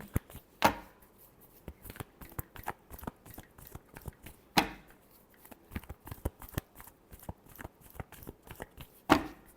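Tarot cards are shuffled by hand, with repeated quick riffling and slapping bursts, several louder snaps at intervals, close and alone without any talking.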